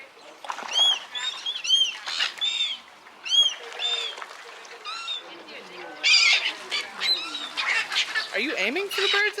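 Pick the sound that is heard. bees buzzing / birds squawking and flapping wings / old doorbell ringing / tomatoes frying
birds squawking and flapping wings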